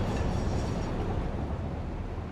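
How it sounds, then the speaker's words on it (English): A train rolls past in the factory-building video game Satisfactory, a dense continuous low rumble with steady rail noise, loud and close, with no speech over it. "Hello, train."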